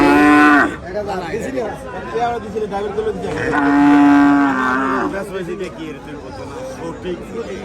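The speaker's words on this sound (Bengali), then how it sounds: "এদিকে অনেক সুন্দর সুন্দর কিছু গরু আছে" Cattle at the Chandimura cattle market in Cumilla, Bangladesh, mostly beef bulls, give two long, loud moos close by, with a busy background of market voices and hubbub.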